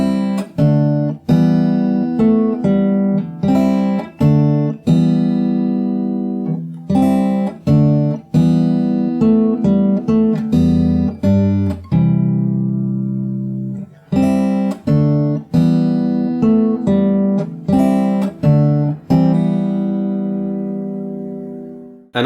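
Fingerstyle acoustic guitar playing the verse of a song, plucked chords and picked notes in a steady repeating pattern, close and clear with no voices.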